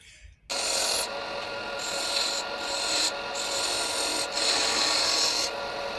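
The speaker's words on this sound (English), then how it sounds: "See, that's the shavings from the point tool." A point tool carving and throwing off shavings gives a close, continuous rough rasping scrape that starts abruptly after a brief silence and holds at steady strength, with slight pulses as the stroke changes.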